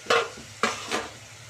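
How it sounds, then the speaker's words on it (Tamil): Vegetables for veg biryani, including beans, peas and cauliflower, are stirred in a hot pan, giving three distinct scraping swishes over a faint background sizzle. "போட்டுட்டு நல்லா கிண்டிக்கலாம்"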